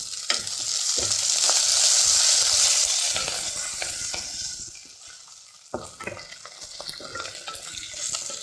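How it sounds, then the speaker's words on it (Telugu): Mint and coriander leaves hit hot oil in a pan with a loud, close burst of sizzling that slowly fades, followed by scattered clatter and scraping of stirring. "పుదీనా అలానే కొత్తిమీర కూడా వేసి లైట్గా ఫ్రై చేసుకుందాం."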